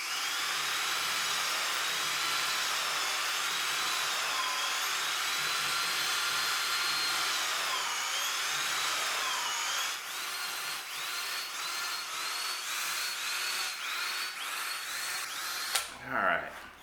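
Cordless hand drill boring with a paddle bit, a loud sustained whine for about ten seconds whose pitch wavers under load, then a pulsing, stuttering stretch before stopping.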